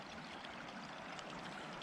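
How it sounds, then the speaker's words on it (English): Water flows steadily into a woodland pond as a faint, even rushing hiss, soft and distant, with no other sounds over it. "Lots of water going into the pond."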